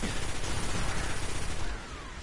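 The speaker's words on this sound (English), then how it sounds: "This weapon has massive recoil." Heavy-recoil weapon firing in the video game Destiny, a dense burst of rapid, booming shots lasting under two seconds before tailing off, with no talk.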